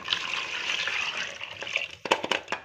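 Cooking water pours steadily into sambar with a soft rushing splash, then a few clinks and knocks near the end; no voices.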